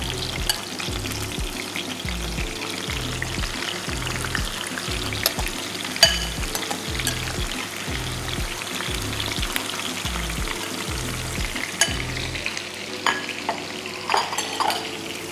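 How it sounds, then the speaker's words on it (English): Masala cassava with ginger being stirred in a hot pan, a steady close sizzle of frying with rhythmic scraping strokes of the spoon throughout, no voices. "Give it a little stir."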